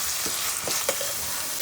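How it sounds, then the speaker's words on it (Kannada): Onion, tomato and turmeric masala frying for vermicelli upma, a steady close sizzle with a few soft stirring scrapes, no talking. "ಅರಿಶಿನ ಸಹ ಹಾಕ್ಕೊಂಡು ಚೆನ್ನಾಗಿ ಹಸಿ ವಾಸ ಹೋಗೋವರೆಗೂ ಚೆನ್ನಾಗಿ ಫ್ರೈ ಮಾಡ್ಕೊಳ್ತೇನೆ."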